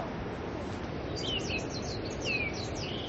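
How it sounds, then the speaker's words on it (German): Birds chirp in short high tweets over a steady wash of wind and surf on a Kauai beach in Hawaii, a few calls rising above the constant background noise. "Nur Wind, Wellen und Vogelgezwitscher bilden die Geräuschkulisse."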